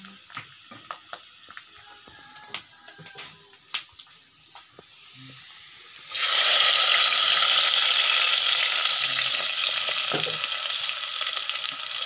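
Fried shallots and coconut bits tempered in hot oil are tipped onto beef and burst into a loud, steady sizzle, which follows a few quiet clinks and clicks and then holds for about six seconds.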